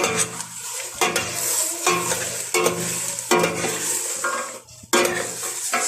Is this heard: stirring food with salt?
yes